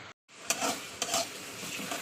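Spice paste with turmeric and salt fries in oil, a continuous sizzle marked by repeated scraping stir strokes, with a brief gap of silence at the start.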